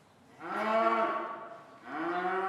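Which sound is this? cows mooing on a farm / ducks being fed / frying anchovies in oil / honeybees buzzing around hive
cows mooing on a farm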